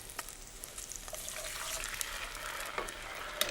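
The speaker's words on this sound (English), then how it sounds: "You get lovely sizzling noises on this." Steady hiss of chicken sizzling in a pan with stock, faint liquid bubbling, a soft continuous crackle at close range and no voices.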